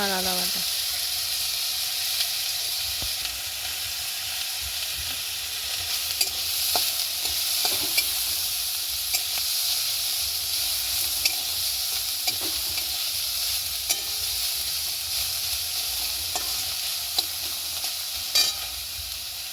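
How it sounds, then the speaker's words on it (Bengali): Chopped onion and garlic frying in hot oil for a chicken soup, a loud, steady close-up sizzle that hisses continuously, with a few light stirring scrapes and no voices. "তারপরে দেবো পেঁয়াজ কুচোনো রসুন কুচানো"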